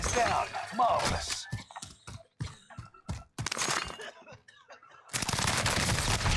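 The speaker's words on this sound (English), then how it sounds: "Gunshot. I'm taking shots." Rapid bursts of gunfire in Call of Duty Warzone's Fortune's Keep map, sharp cracks in quick succession and a shattering blast, loud and close with brief pauses between volleys.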